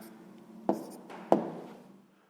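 A pen scratches on paper as a maths answer is written down, two sharp strokes among quieter scribbling that fades out, close and alone.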